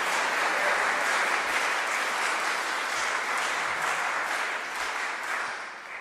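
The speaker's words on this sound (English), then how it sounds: "I think you should clap for the museum." Sustained audience applause at a livestreamed concert, dense steady clapping from a crowd that holds for several seconds before easing slightly toward the end.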